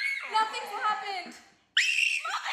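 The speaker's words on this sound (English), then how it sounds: "Oh my god, the screams!" Shrill screams come from a played video clip, one drawn-out scream that fades away, then a sudden sharp scream after a short silence, with voices mixed in.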